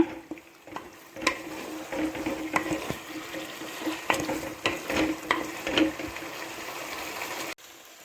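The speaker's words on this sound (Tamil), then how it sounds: "இந்த மசாலாவுடன் சேர்த்து இதை நல்லா எண்ணெயிலே நல்லா ஃப்ரை பண்ணுங்க." Brinjal and quail fry in oil with masala, a continuous close sizzle punctuated by repeated scraping and clacking from a stirring spoon against the pan, with no voices.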